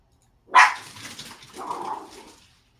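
A dog gives one sharp, close bark followed by a softer, drawn-out whining yelp, loud and alone against a quiet background.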